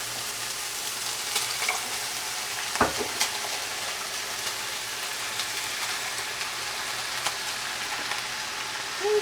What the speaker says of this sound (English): And as just browning up our meat, we are using 1 pound of ground turkey.